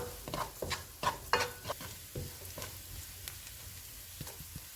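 Spice powders, including crushed red chili, pomegranate seed powder and dry mango powder, roasting in a pan for a potato fry sandwich, soft sizzling broken by several quick spoon scrapes and taps, fading to a quieter hiss.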